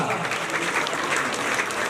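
Audience applause at a Bhagwat Katha religious discourse: dense, steady clapping from a large gathering, loud and continuous throughout, with no speech over it.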